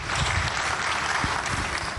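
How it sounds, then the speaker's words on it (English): A studio audience at a televised political interview breaks into a brief, dense round of applause, many hands clapping steadily and fairly close. "A big round of applause."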